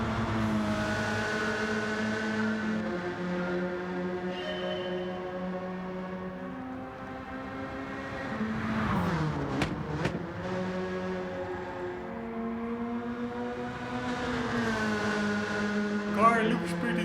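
Peugeot road car in Gran Turismo 7 revving hard, with a loud engine tone climbing and falling through several revs and a sharp blip near the middle, set under background music.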